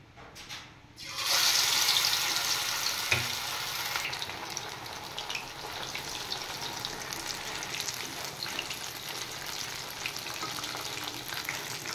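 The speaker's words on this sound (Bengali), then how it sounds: "তেল গরম হয়ে গেছে, এবার আমি পকোড়াগুলো ভেজে নেব।" Pakoras deep frying in hot oil, a steady broadband sizzle that starts abruptly after a brief quiet moment and continues strongly and evenly, with a single soft knock partway through and no voices.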